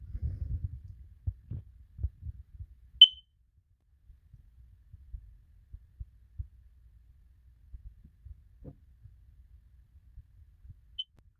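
Two short, faint high-pitched chirps from a smoke detector with a low or failing built-in battery, about 30 seconds apart, over quiet low rumbling and soft handling noises.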